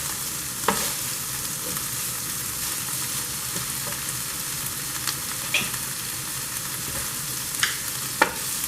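Fried garlic stirred and tossed with rice and sauce in a simmering pan for a salmon and shrimp rice bowl: a steady loud sizzle with periodic scraping strokes and light tossing knocks.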